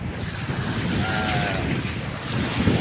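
Waves wash onto a sandy beach at Napayawan, Barangay Amutag, Aroroy, Masbate, with a steady surf roar, gusts of wind buffeting the microphone and a faint engine hum in the distance.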